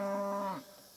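A calf lets out a single drawn-out moo, close and clear, tapering off into quiet farm background.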